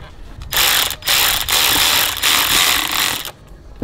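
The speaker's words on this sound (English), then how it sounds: "then tighten up your clamps" Hose clamps being tightened on a carbon intake in a BMW G8X M3/M4, heard as several loud close bursts of ratcheting clicks separated by short pauses.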